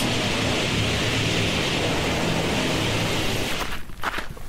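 Loud, steady roar of storm wind and rustling leaves fills nearly the whole clip, easing off briefly near the end.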